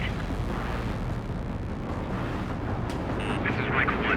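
Missile explosion in the jet combat game Ace Combat 7, heard as a continuous heavy rumbling roar with low booming weight, loud and steady throughout, with faint electronic tones near the end.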